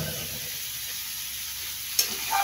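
Carrots stirred into beef and vegetables in a frying pan, a low steady sizzle with one sharp utensil clink on the pan and a few soft scrapes, no voices.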